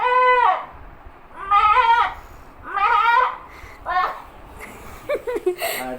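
A person's voice imitates a goat, giving a run of four or five quavering bleats of varying length, close and fairly loud, ending in a few shorter breathy cries.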